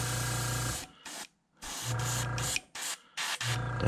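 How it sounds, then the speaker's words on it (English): Airbrush spraying paint onto the face of a holographic foiled jerkbait fishing lure, several short hissing bursts with brief pauses between them, close and alone. "And I'm gonna spray the face."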